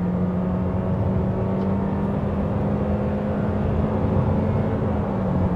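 A 2022 Toyota Corolla Cross accelerating, heard as a steady engine drone and road hum from inside the car that builds only slightly in pitch, with no talking.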